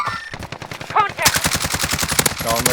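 Rapid automatic gunfire in Call of Duty Warzone rattles in dense, continuous bursts at close range, with players' voices briefly audible beneath the shooting.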